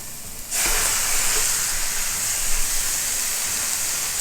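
Ground beef drops into a pan of onions and immediately breaks into a loud, steady sizzle that hisses on without pause after a quiet start.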